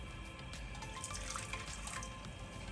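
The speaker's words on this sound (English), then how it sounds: "Then I'm going to add in 200 milliliters of boiling hot water." Boiling hot water, about 200 millilitres, pours steadily into a warm pan for a Japanese-style beef and onion rice bowl, a continuous splashing, bubbling stream heard close and alone without any talk.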